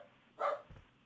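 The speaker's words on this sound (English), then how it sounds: "Hold on, Leo's barking, sorry" A dog barks a few times, loud and close, in short separate bursts, with a low muffled thump between them.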